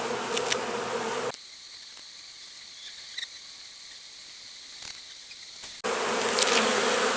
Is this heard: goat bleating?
no